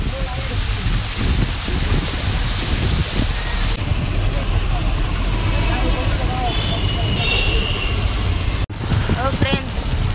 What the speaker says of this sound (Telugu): ఇదిగోండి ఫుల్ వర్షం పడుతుంది తిరుపతిలో